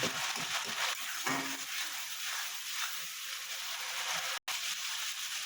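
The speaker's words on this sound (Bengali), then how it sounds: "মশলাটা এইভাবে একটু ভালো মতন কষিয়ে নেবেন।" Masala sautés in a pan for pepe aloo badi, a moderate crackling sizzle broken by scattered stirring knocks and scrapes, with one brief dropout near the end.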